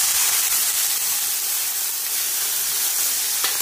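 Water hits a hot pan of okra cooking in spiced oil and hisses into steady, bright steam, a loud continuous sizzle with a small crackle near the end.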